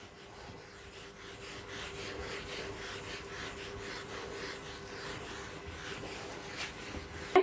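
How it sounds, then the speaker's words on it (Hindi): Steady rhythmic rubbing as writing is erased from a board, close and continuous with regular back-and-forth strokes and no talking over it. "तो मैं इसको रब कर रही हूँ।"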